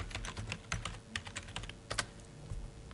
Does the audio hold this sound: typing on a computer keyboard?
yes